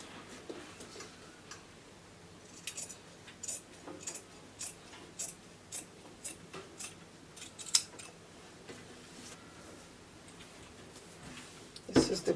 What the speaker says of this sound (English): I will lift it up like so and cut out the front neck depth